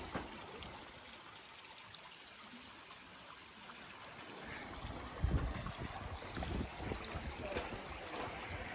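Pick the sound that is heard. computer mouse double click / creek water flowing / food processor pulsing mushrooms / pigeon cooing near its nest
creek water flowing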